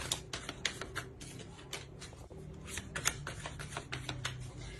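Tarot cards shuffled and drawn from a deck, a quick run of close, crisp riffling flicks and soft card slaps in an uneven rhythm, with no speech.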